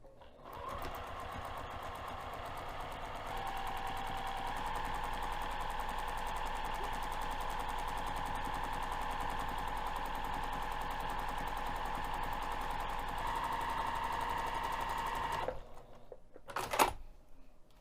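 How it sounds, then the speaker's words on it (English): A sewing machine runs steadily for about fifteen seconds, top stitching along the finished edge of fabric at a quarter-inch seam allowance, with a close, even motor whir and rapid needle chatter before it stops. "we're going to take this back over to the sewing machine and top stitch the finished edge"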